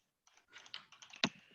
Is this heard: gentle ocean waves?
no